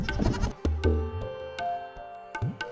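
Goats bleating up on a mountain in the Kashmir region, several wavering calls from a herd overlapping in the first half and then recurring in shorter bursts, close and clear with no talk.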